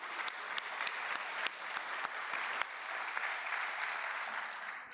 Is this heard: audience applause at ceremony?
yes